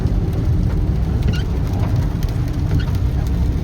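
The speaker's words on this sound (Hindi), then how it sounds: "प्रॉपर हम पूरे रास्ते से चलते आ रहे हैं और बारिश एक मिनट भी नहीं रुकी है" Heavy rain drumming on a car during a long drive, a dense constant wash of rain and road noise, close and loud for a few seconds with no talking.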